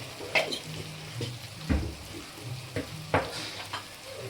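Masala with chilli powder frying in a pan, a low sizzle broken by several sharp scrapes and knocks of a spoon as it is stirred at an unhurried pace.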